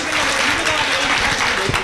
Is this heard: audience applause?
yes